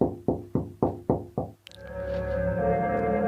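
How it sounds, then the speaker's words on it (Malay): Six steady knocks on a door, loud and close, in an audio drama scene, followed by a sustained sound effect with a ringing tone. No one speaks. "Ketukan tersebut makin lama makin kuat."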